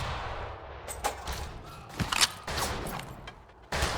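Pump-action shotgun blasts in the Western shooter Fistful of Frags, several sharp, separate shots spaced irregularly over a noisy game background, with no talk.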